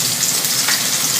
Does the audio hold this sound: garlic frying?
yes